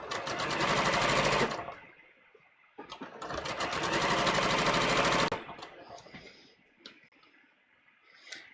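Sewing machine stitching a collar seam on a muslin fitting garment, two loud sustained runs of rapid stitching separated by a pause, followed by quieter handling clicks and small noises.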